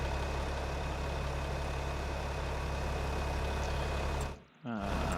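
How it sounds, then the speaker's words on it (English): A farm vehicle engine idles in a farming video game, a steady low rumble that holds constant and loud, dropping out briefly near the end before returning. "Start engine."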